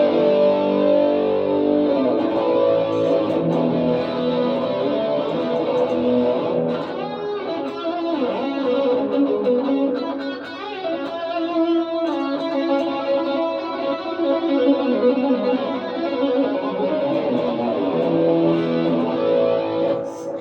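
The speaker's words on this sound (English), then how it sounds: "X100 distortion with chorus." Electric guitar played through an MXR Rockman X100 with heavy distortion and a shimmering chorus effect, chords and notes ringing continuously at a steady, loud level for about twenty seconds.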